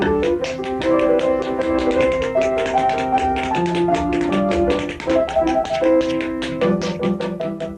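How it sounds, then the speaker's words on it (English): Tap dancing on a studio floor to Mozart: rapid, crisp clicking taps in busy rhythms over a bright melodic accompaniment, close and loud, throughout without talking. "seeing what you can do to the sound of Mozart with a little tap dancing"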